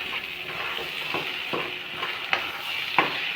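Chicken masala seasoned with black pepper, frying in a pan while a spoon scrapes and stirs it in repeated strokes over a steady bright sizzle, close and fairly loud, with no voices.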